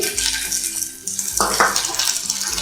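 Ginger, garlic and onion frying in a pan are stirred with a utensil, giving close scraping and clinking strokes against the metal over a constant sizzle, with no voices.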